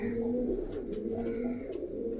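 Pigeons kept in a household loft give a steady, low throaty cooing, close and continuous, with a few faint higher chirps scattered on top and no talking.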